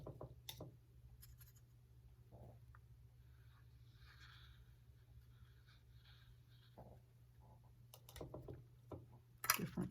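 Faint scratching of a pen drawing on paper while making a small mandala, soft irregular strokes with a few louder taps and scrapes near the end, close and quiet.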